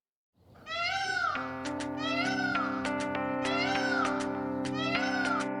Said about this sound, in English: peacock peacock.